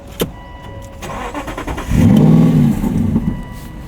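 An Aston Martin Vantage S V8 sports car starts up with a short cranking burst, then the engine catches into a loud, deep idle rumble that swells briefly and settles, close by with no talk over it.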